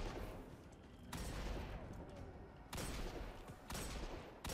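Repeated pistol gunfire in the video game Destiny 2, loud bursts at irregular intervals over a constant dense wash of battle noise, with no talking.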